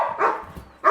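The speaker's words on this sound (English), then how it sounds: "I don't know why the dogs are going off all of a sudden" Dogs in a home kitchen bark and yip, a couple of loud close bursts with a quieter stretch between, heard alone with no talking.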